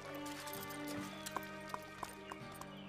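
Horse hooves clop at a steady walking pace in an animated series, over a sustained tonal background, several distinct hoofbeats fairly close and moderately loud, without talking.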